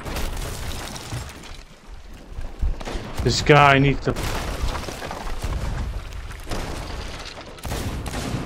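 Cannon fire and explosions in Sea of Thieves PvP aboard a sloop, with repeated booms and dull blasts scattered through the clip under steady game noise, while players talk over it.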